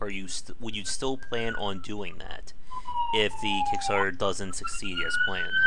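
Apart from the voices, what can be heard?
sirens outside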